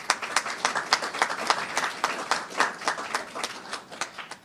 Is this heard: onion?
no